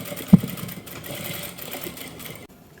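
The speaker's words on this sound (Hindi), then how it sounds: "यहां पर भी सिलाई को हम 2-3 मरतबा कर देंगे।" A sewing machine stitches along the folded fabric edge of a kurta sleeve, a steady, close mechanical whirr that runs for a couple of seconds after a small knock and then stops abruptly.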